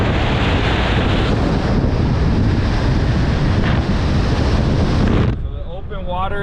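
Strong wind blows steadily over a Florida waterway near a boat launch, roaring loudly against the microphone for several seconds. It then drops off suddenly, and a voice is briefly heard.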